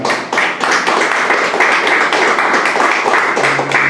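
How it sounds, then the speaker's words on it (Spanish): A church congregation claps for the Lord after a prayer, a dense and steady wash of many hands that stays loud for about four seconds without a break. "Vamos a darle un fuerte aplauso al Señor."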